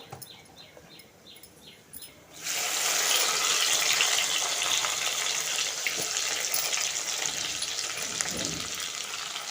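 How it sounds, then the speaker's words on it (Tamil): Chopped onion and garlic dropped into hot oil in a home kitchen, a sudden loud sizzle after two quiet seconds that settles into a steady crackling fry. "நல்லா வந்து வதங்கணும்"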